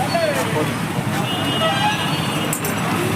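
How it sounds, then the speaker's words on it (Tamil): A chariot turns on a busy road amid continuous traffic rumble and engine noise, with a short horn toot near the end and voices talking over the scene. "கொஞ்சம் வழி விடுங்க. திரும்புது வண்டி."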